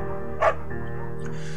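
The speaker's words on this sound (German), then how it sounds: "Eimer ist ein guter Hund." A beagle in the video game Firewatch gives a single short, sharp bark over a steady hum of game ambience and soft background music.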